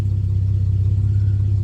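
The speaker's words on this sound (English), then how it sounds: "Just starting car." A 1966 Ford Mustang K-Code GT Fastback engine runs with a steady, loud, close low rumble at idle, with no talk and no break in the sound.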